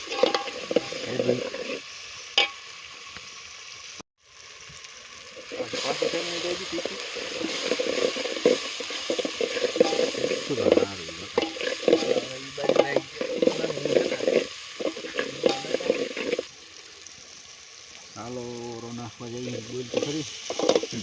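Local desi tomatoes frying in a tempering for a brinjal dish, cooked outdoors at a farm, a loud crackling sizzle with repeated scraping stirs and brief pauses, continuous throughout.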